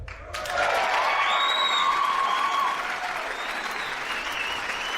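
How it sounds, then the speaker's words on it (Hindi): An audience at a Pakistan Army show applauds a guest of honour, a group captain, with sustained, fairly loud clapping that swells after a brief start and then tapers slightly while continuing steadily. "बहुत सारी तालियां हमारे इस hero group captain Faheem Khan के लिए"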